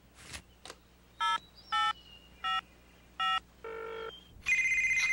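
A cell phone is dialed with a quick series of sharp electronic tone beeps, each short and evenly spaced, followed by a louder ringing tone at the end, clear and close with no talking.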